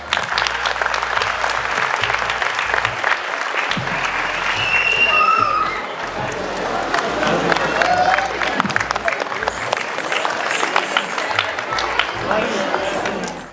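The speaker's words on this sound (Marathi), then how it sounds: "एकदा जोरदार टाळ्या" Sustained audience applause at a Bharatanatyam dance event, with dense, loud clapping filling the hall from start to finish and some crowd voices mixed in.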